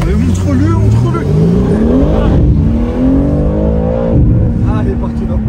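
Car engine accelerating and revving hard in a race, pitch climbing through gears with loud rising whines, while people talk excitedly over the engine noise.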